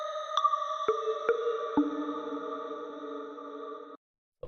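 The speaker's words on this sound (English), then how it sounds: "This first sound is using the Shimmer reverb, but without pitch shifting." Pigments 4 synth preset through Shimmer reverb without pitch shifting, several sustained tones entering one after another with soft attacks, stacking into a steady, glassy chord that holds and then cuts off abruptly.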